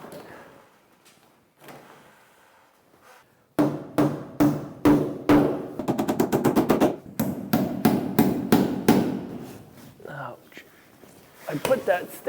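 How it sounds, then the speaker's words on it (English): A staple gun fires into a board while building an off-grid barn in the woods, a run of loud, sharp snapping clacks in quick irregular succession, with quiet talk before and after. "I put that staple right through my glove."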